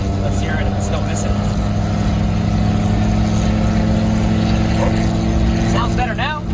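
A small Japanese truck engine runs continuously while being checked for a misfire, a steady loud drone with a faint voice briefly over it near the end.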